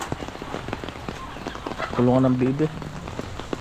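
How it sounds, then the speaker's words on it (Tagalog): Heavy monsoon rain pours down steadily over a flooded fishpond and bamboo near a duck pen, a dense hiss throughout, with someone talking over it and a brief harmonic call partway through. "Grabe itong ulan na to."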